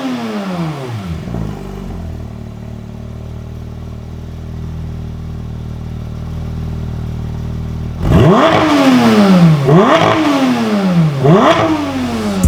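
A Porsche GT3 RS fitted with a KIES valve controller idles, then revs hard from about eight seconds, giving three sharp, loud throttle blips that rise and fall close by.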